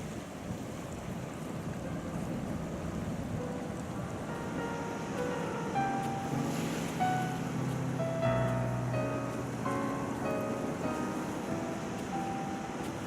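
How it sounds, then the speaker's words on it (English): Ocean waves on a beach at Bandon, Oregon, a continuous mid-distance wash of surf mixed with wind noise on the microphone, with no talking. "the soothing sound of those waves"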